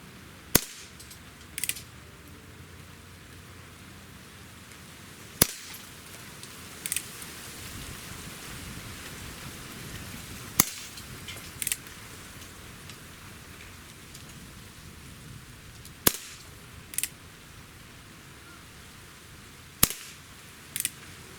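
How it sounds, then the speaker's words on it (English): Six sharp shots from a Colt Single Action Army revolver firing RWS Super Hollow Point 6.9 grain pellets, evenly spaced about every five seconds, each a crisp crack with smaller clicks between, over steady outdoor background noise. "I'm just going to shoot 6 shots. We're shooting the RWS Super Hollow Points."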